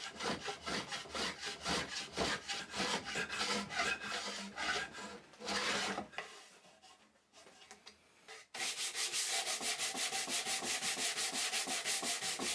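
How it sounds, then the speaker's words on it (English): Hand sanding of reclaimed hardwood planter edges, rhythmic rasping back-and-forth strokes, a quieter pause, then a steady, fast run of close scrubbing strokes. "I do some final sanding to remove any stubborn bits of glue"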